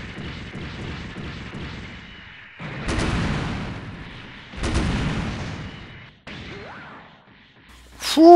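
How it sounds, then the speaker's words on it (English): A barrage of cluster homing missiles fires in SD Gundam Online, with bursts of launches and whooshing blasts in several waves and quieter gaps between them, ending in a sharp electronic sound. "I like those cluster homing missiles"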